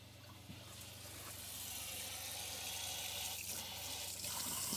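Shower water runs inside a van, a continuous hiss of spray that grows slightly louder and stays steady throughout.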